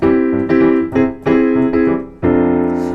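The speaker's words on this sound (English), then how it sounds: "augmented chords are very nice and they sound like this" Sustained augmented chords strummed or struck in a series, with several rearticulated attacks about half a second apart, ringing clearly with no voices.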